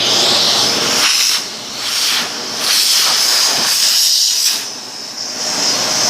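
Shark Rotator vacuum cleaner running with its suction open, a loud close hissing rush that dips and swells several times as airflow is blocked and released.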